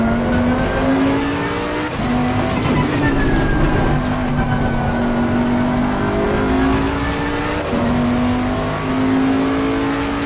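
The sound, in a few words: race car driving at Brands Hatch in video game Assetto Corsa Competizione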